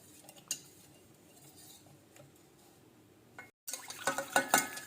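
Custard powder is whisked into cold milk for a sabudana drink; after a quiet stretch with a single clink, a spoon scrapes and clatters briskly against the bowl in close, rhythmic strokes over a faint liquid swish.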